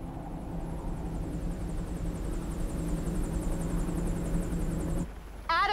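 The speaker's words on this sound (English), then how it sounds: "The chopper's here" A steady helicopter engine drone with rhythmic rotor chop holds for several seconds before cutting off abruptly, followed by a short burst of other sound.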